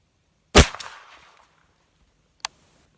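A single loud shotgun blast fired with coyote loads, close and sharp with a decaying echo, followed about two seconds later by a short metallic clank.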